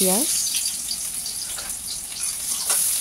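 Steady hissing sizzle of onions frying in hot oil in a wok, close and continuous, with a brief voice at the very start.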